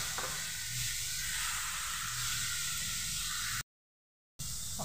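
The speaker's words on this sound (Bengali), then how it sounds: "এবার আমি ভালোভাবে নাড়াচাড়া করে নেব।" Potato, beetroot and paneer stirred in a hot pan, giving a steady soft sizzle and hiss with faint scraping, briefly cut to silence near the end before resuming.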